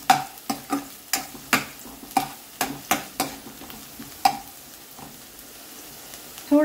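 Onion fries in a pan over a low flame while a spoon stirs it, giving a series of sharp scraping knocks at a brisk, uneven rhythm over a soft sizzle, close and fairly quiet.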